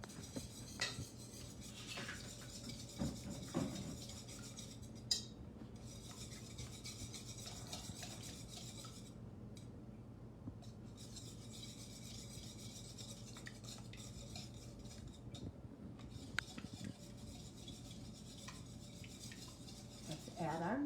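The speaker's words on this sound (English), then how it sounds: "And whisk them up." A whisk clinks and scrapes rhythmically against a bowl, mixing ingredients in a kids' cooking class, steady and fairly quiet with a few louder taps.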